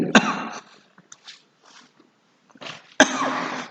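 Coughing from a preacher during a sermon on Ephesians: a sharp cough burst near the start, a few small throat sounds, then another strong cough, close and loud with quiet gaps between.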